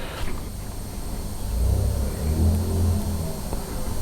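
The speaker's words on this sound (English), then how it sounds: "a loud car is going to turn round and come down here and make a loud noise" A loud car revving its exhaust on the road outside a house, a low engine rumble swelling and fading at a distance, heard indoors without any talk.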